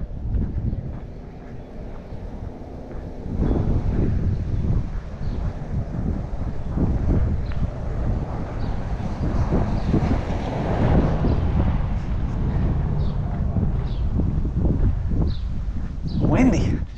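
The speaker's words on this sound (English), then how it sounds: "Windy, I'm sure you can hear it." Wind buffets the microphone throughout, a constant low rumbling roar with gusts that swell and ease.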